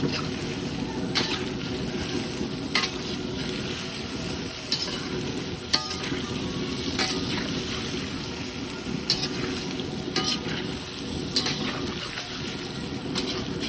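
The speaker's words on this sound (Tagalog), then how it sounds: "Siguraduhin lang natin na medyo mainit bago natin ilagay ang ating hiniwang cubes na tokwa or tofu" Cubes of tofu frying in hot oil make a continuous, even crackling sizzle with a few sharper pops scattered through, close and moderately loud, with no talking.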